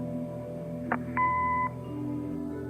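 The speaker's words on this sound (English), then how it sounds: "Leave a message after the beep." An answering machine in the video game Kathy Rain gives a short click, then one clear steady electronic beep lasting about half a second over a quiet background hum.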